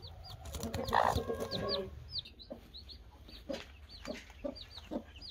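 A hen on her nest clucks repeatedly in short, soft bursts close by, calling her chicks, while their high chirps peep throughout.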